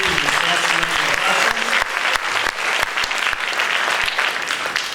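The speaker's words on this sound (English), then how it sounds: "let's have a round of applause for the selection committee and everyone who participated in the staff selection" An audience at a probation department general assembly gives a loud, sustained round of applause, many hands clapping densely throughout, with some voices mixed in and a few sharper individual claps standing out.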